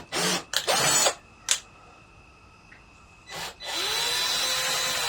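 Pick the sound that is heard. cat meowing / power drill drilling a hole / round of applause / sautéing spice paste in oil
power drill drilling a hole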